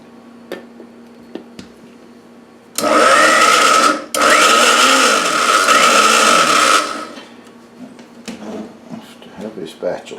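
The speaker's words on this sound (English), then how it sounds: "you get to see my ancient blender again. It works." An old kitchen blender blending blueberries with plain white sugar for wild blueberry ice cream, running loud and close for about four seconds with a brief stop partway, then falling quiet into small clinks.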